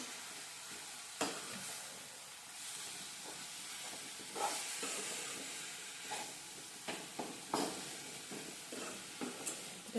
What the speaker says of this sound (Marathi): तशी छान भाजी परतून घ्यायची आहे